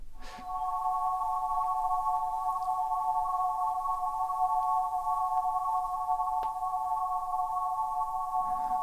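A steady sustained ambient synth pad with stacked bright harmonics and a long release, holding evenly at a constant level before trailing off at the end.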